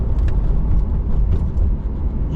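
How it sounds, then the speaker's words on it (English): A Porsche 911 991.2 GTS with PDK gearbox in sport mode gives a loud, continuous exhaust rumble from inside the car, steady and dense throughout with slight fluctuations. "You get a very nice exhaust note."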